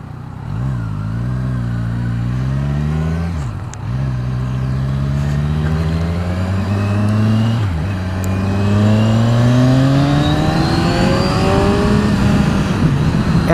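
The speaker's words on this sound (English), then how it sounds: "the sound of this exhaust in stock is very nice, very smooth, it sings, doesn't growl, doesn't shout, it is singing" A Kawasaki Z1000SX motorcycle on its stock exhaust pulls up through the gears, its smooth engine note climbing, dropping at each shift and climbing again, loud and close with no talking.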